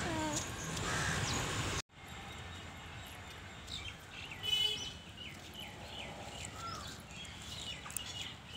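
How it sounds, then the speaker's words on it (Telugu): Several crows caw repeatedly while eating rice put out for them, harsh calls scattered across an outdoor scene with steady ambient noise and no talking. "చూడండి కాకిలు రడిగ్గా బువ్వ తినడానికి వచ్చింది"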